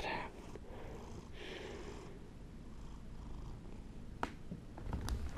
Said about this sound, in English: That's Miles Davis the cat.